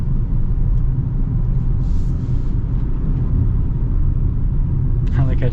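A 2025 Jeep Compass Trailhawk on all-terrain tires gives a steady low rumble of road and tire noise inside the cabin, and someone talks over it.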